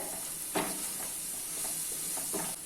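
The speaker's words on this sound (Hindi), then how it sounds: "मसालों को 1 से 2 मिनट तक मीडियम फ्लेम पे अच्छे से भून लेते हैं।" Spice masala roasts in a pan over a medium flame for a soyabean kofta curry, giving a soft, steady sizzle with a few faint stirring scrapes close by.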